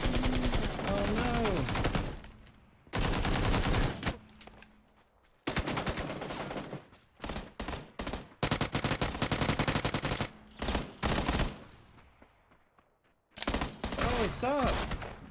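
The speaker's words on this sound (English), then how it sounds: "These bad guys are keep shooting me" Gunfire in the PUBG video game comes in loud, dense bursts separated by short pauses, mixed with other game sounds, with no speech over it.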